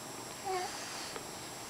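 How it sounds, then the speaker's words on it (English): A pet cat named Snowy gives a short, faint vocal call in a quiet room, one brief rising-falling note and then near silence. "The cat's talking to you, baby."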